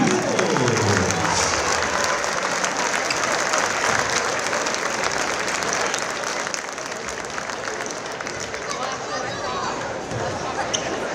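Crowd applause in a high school boys basketball gym honoring senior players and cheerleaders: loud, dense, continuous clapping from many fans throughout, with some cheering mixed in.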